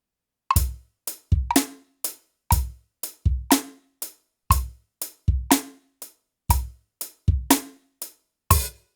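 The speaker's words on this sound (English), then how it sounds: "you can practice with that kick falling in between the hi-hat" A sparse drum pattern of punchy kick hits and crisp hi-hat strikes, repeating in a steady groove with short gaps between beats.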